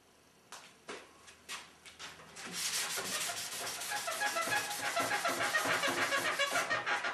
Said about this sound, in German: jetzt beim Schleifen,